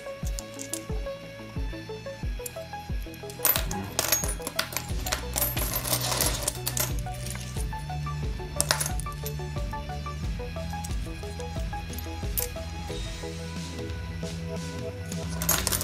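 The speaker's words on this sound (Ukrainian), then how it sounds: "Велика велика куча цих монеток." Old Austro-Hungarian coins clink and clatter in a pile, with repeated metallic jingles and sharp chinks as they are handled, loud and close, set against a steady background rhythm.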